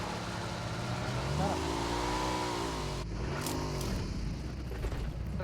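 Car engine in the battle royale game BGMI, a steady loud revving drone with rising and falling pitch sweeps as the vehicle accelerates, continuous throughout with a shift midway, voices talking over it.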